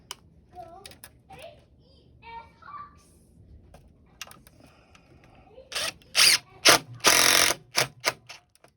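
Screws being tightened while a Lennox EIM module is installed, with a few quiet early clicks and soft voice-like sounds followed by a burst of loud, close, sharp ratcheting and mechanical clicks near the end.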